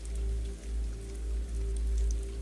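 Steady spring rain pattering outside a glass conservatory, a continuous soft wash of drops with a low rumbling undertone, even and unbroken throughout.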